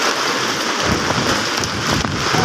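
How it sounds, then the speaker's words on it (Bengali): Heavy rain pouring down during a storm in flooded, knee-deep streets, a loud, dense, unbroken roar of rainfall up close with no voices. "প্রচুর ঝড় বৃষ্টি হচ্ছে"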